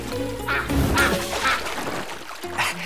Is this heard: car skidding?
no